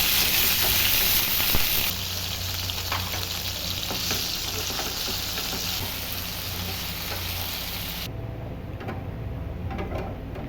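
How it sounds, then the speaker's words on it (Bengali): Okra frying with salt in leftover oil in a pan, a steady loud sizzle with scraping and stirring throughout that drops slightly in brightness toward the end. "প্যানের অবশিষ্ট তেলে ভেন্ডিগুলো নুন দিয়ে নেড়ে চেড়ে ভেজে তুলে নিতে হবে।"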